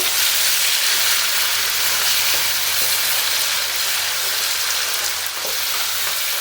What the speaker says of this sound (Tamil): இப்போ நம்ம அரைச்சி வச்சுருக்கிற அந்த பூண்டு வெங்காய பேஸ்ட்டை இதில் சேர்த்துக்கோங்க.